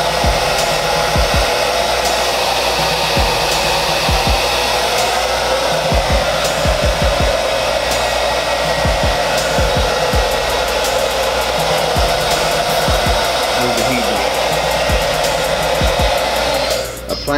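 A hair dryer blows heat onto hair during a haircut, a loud, continuous whooshing drone that runs steadily for the whole stretch, with light clicks and handling noises underneath and no talking.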